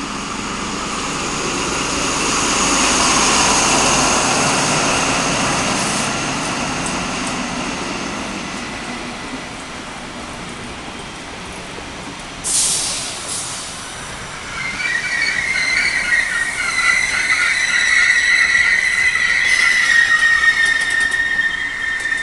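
XPT passenger train set 2002 passing northbound at Gosford, a loud, steady roar of engine and rolling wheels, with a sharp clank partway through and then a high metallic wheel squeal.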